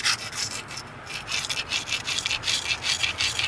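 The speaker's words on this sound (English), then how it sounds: "before I notch, I'm going to go ahead and grind everything real good" Edges of an obsidian spear head being ground with steady, continuous rasping strokes, close and fairly loud, with a gritty abrasive texture and no talking.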